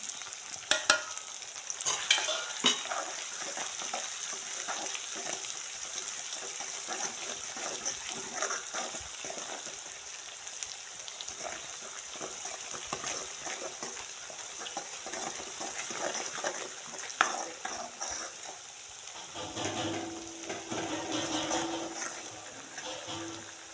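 Pithla frying in a pan as salt, onion, garlic, mustard seeds, cumin, garam masala, coriander powder and turmeric are stirred in, with a continuous sizzle, repeated scraping and clinking of a spoon, and occasional splashy bursts.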